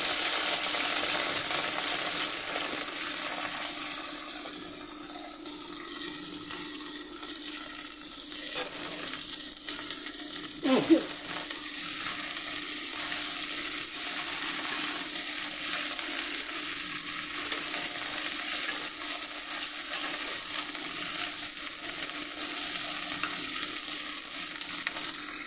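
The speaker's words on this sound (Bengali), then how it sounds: "এখন যে পাত্রে ডিম ভেজেছি সেই কড়াইতেই আমি ঢেঁড়সগুলো ভেজে নেব।" Okra fries in a wok previously used for eggs, giving a continuous close sizzle with stirring, broken by one sharp scrape or clatter midway.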